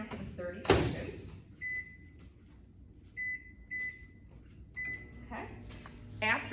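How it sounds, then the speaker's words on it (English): Microwave oven melting chocolate chips on a 30-second timer, with a low running hum under someone talking, keypad beeps and a door clack near the start. "So we're gonna put them in the microwave. Set the timer for 30 seconds."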